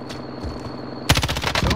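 Gunfire erupts in a shooter video game, a rapid burst of close, loud automatic shots that cuts in abruptly after a quieter stretch with a steady high tone.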